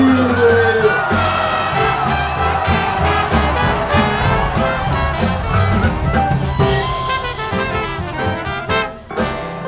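A large crowd yelling and whooping loudly under a bridge at a Lindy Hop dance event, echoing and sustained, with music playing underneath throughout.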